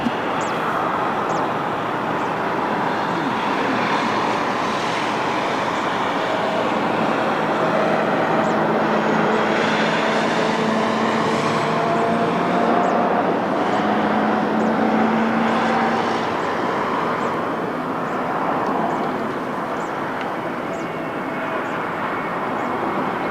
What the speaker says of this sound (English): Another Airbus A320neo